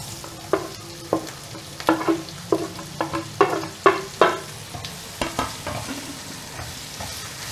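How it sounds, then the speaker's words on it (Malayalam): Sliced onions tossed into a pan with salt and garam masala, giving repeated stirring scrapes and bursts of sizzling frying at a steady, close rhythm, with no talking. "ഇതിലേക്ക് നമ്മൾ ഈ സവോള ഇടുന്നു."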